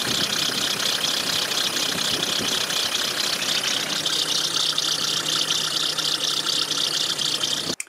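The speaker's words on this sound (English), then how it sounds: "I'll just turn the engine on." A car engine idles steadily with a low mechanical rumble and a whining hum on top from a leaking power steering pump, constant for several seconds before cutting off abruptly.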